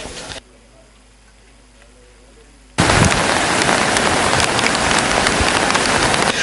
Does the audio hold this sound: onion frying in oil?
no